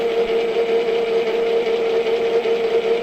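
A lathe chuck spins at its seventh speed, driven through a frequency inverter, giving a steady, even mechanical whine with a constant tone and no pauses over the few seconds.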